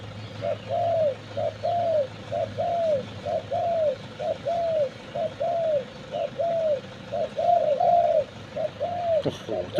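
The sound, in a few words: decoy dove cooing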